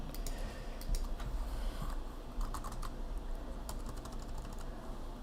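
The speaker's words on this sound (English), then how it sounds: "I'm going to type it in." Fast typing on a computer keyboard, a steady stream of light clicks with brief louder bursts, close and continuous for about five seconds with no talk.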